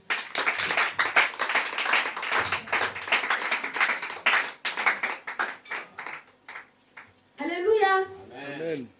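A church congregation claps in praise, a fast patter of many hands that thins out and fades; a voice then speaks briefly over the close.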